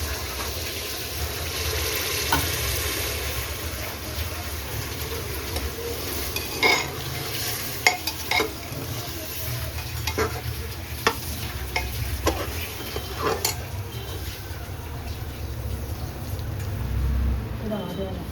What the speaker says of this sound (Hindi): मसाला भी हमारा जो भुन गया है, तो तेल भी दिखने लगा है इसमें